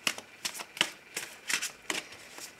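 A deck of tarot cards is shuffled up close, a series of brisk riffling bursts in an uneven rhythm, with no talking over it.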